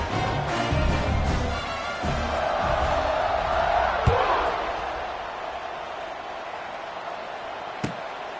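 Football stadium crowd cheering before kickoff, a steady loud roar filling the air with a couple of sharp thuds, no talk over it.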